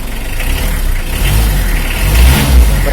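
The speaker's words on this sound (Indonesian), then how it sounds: "injak gas ya. Dengarkan raungan mesinnya." Diesel engine of a Mitsubishi L300 pickup revving as the throttle is pressed, a close, rising and falling roar in short surges.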